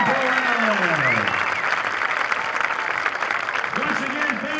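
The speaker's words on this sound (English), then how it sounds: "another round of applause for all of our junior retirement honorees" Applause from a high school football stadium crowd fills the stands, a steady dense wash of clapping throughout, with an announcer's voice speaking over it at the start and end.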